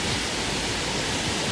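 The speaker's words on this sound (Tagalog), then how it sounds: "Ayan siya guys. Raining in the summer." Heavy summer rain pours down while water runs past a building, forming a dense, continuous rushing wash close to the microphone.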